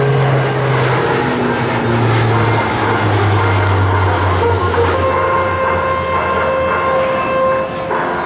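A Lockheed C-130J-30 Hercules with six-blade Dowty propellers flies past at an air show demonstration, its loud, steady propeller drone with rising and falling engine tones filling the whole stretch.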